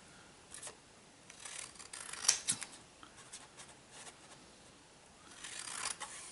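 Scissors snip through journal paper while the edge of a junk journal signature is trimmed, a few quiet crisp cuts and rubs clustered together, faint and close with no talking.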